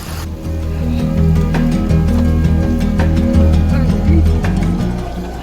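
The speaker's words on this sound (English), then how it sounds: "This water is feeding a mill." Water rushes loudly and continuously along a channel feeding a mill, a dense steady flow with churning, gurgling texture close by.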